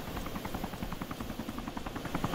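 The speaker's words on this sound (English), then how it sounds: "I got that same chopper, the one that's flying around here right now." A helicopter in the video game DayZ flies overhead with a steady, loud, rapid rotor thumping that stays even throughout.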